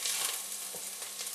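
Spinach cooking in a pan for Congolese ngaï ngaï-style greens gives a brief, steady, close sizzle with no talking.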